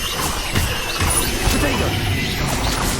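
An Incendio fire spell is cast in the wizarding video game Hogwarts Legacy, a dense, noisy burst of crackling and whooshing with sharp impacts, loud and continuous over the full stretch amid busy game effects.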